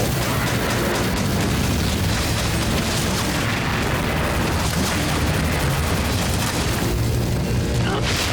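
Shotgun blasts from the XSHOT online shooter, fired with the old Ex Complete World shotgun, boom repeatedly in a dense, loud, continuous barrage of gunfire and explosions, with someone talking over the action.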